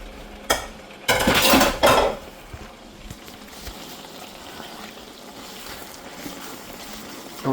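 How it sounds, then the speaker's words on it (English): A spoon scrapes and clatters around a pot of sweet red relish, a few loud clanking strokes near the start, then softer steady stirring and simmering. "I'm going to give her a nice little mix here"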